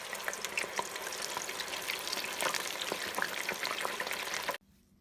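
Catfish and homemade fries frying in hot vegetable oil, a steady, loud crackling sizzle with constant popping, cutting off abruptly at the end.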